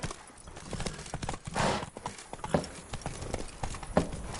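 A horse's hooves clip-clop at a walk in the video game The Witcher 3, a close, uneven patter of hoof knocks with a few sharper steps and low ambient game sound beneath.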